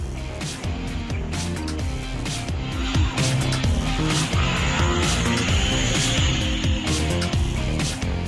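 A gang of bikers performs stunts on a main road, with engines roaring and revving and tyres squealing and skidding in repeated bursts, loud and continuous throughout.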